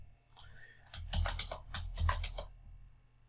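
Keystrokes on a computer keyboard as command parameters are entered, a quick close run of clicks in two short bursts over a low hum, with a soft murmured voice.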